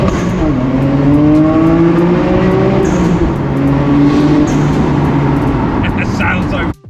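A Nissan Skyline R32 GTR engine revs and accelerates hard through rising, stepped gear pulls, loud and close, with a brief higher whine partway through before cutting off abruptly at the end.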